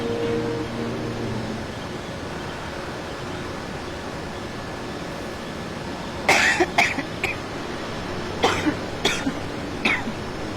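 A person coughs repeatedly in two clusters of sharp, close bursts, the second group a few seconds after the first, over a low steady background hum.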